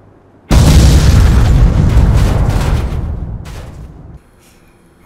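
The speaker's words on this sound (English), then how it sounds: "you will actually see the bus that was out here blow up" A bus blows up in the video game Fallout 3, a sudden loud deep boom that rumbles for several seconds before fading, alone with no talk.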